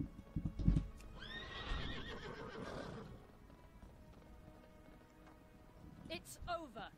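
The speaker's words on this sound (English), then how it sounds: "She is a very fast horse." In World of Warcraft a horse lets out a long, shaky whinny over hoofbeats, with a voice speaking early on and a second brief neigh near the end, all at low volume.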